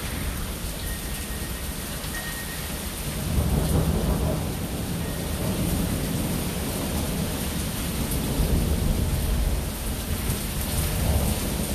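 Steady heavy rain pours down during an Austin thunderstorm, recorded from under an awning, with deep rumbles of thunder rolling in twice through the constant downpour.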